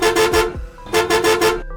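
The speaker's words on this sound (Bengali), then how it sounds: "যানবাহনের হর্ন" A vehicle horn blasting in two bursts of three rapid, loud, close toots with a brief gap between them.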